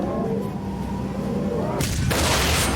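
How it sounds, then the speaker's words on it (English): Loud bang of a BAC One-Eleven cockpit windscreen blowing out at altitude, a sudden broadband burst near the end over steady cabin and engine roar, followed by rushing air. "There was a big bang,"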